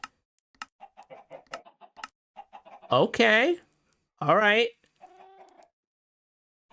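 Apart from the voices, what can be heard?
Mighty Ender Chicken clucking in video game FTB StoneBlock 4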